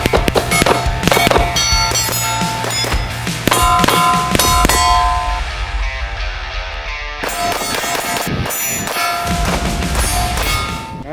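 Rapid shots from a Kimber Rapide pistol ring out loud and close, a dense string of sharp metallic cracks with a brief lull midway before more firing.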